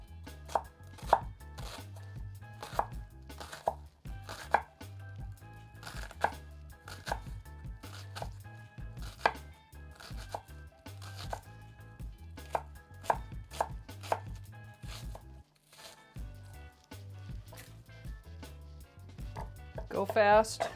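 A sharp knife chops quickly on a cutting board while preparing mahi-mahi tacos, crisp rapid knocks in an irregular run, close and clear, with brief talk in between.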